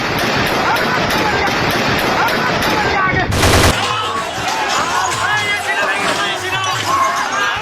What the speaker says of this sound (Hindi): सिंध में गोलियां चल रही हैं, लोगों ने राइफल निकाल लिए हैं और गोलियां चला रहे हैं।